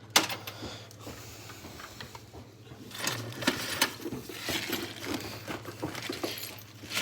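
Hands rummaging through metal washers in a cluttered container, quick jingling clinks and rattles in irregular bursts, close-up and moderately loud, with a low background hum.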